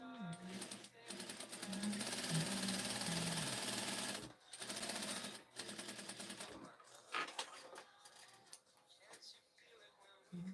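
A sewing machine stitches dress fabric in bursts, its rapid mechanical whirring running steadily for about four seconds, pausing, then resuming briefly, with a voice talking near the start.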